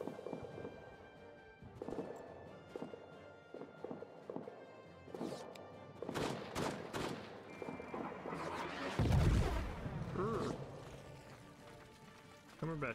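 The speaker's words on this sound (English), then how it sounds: "That artillery shell almost sent us all to our deaths." A loud, close artillery shell blast in the World War I trench game All Quiet in the Trenches: a heavy low boom lands about two-thirds through, amid scattered gunfire and footsteps, with people talking throughout.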